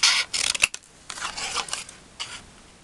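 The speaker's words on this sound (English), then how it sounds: "These scissors are awesome to cut with" Scissors snip through paper while cutting out a shape for a handmade card: a few crisp, close cuts in short bursts with brief pauses between them.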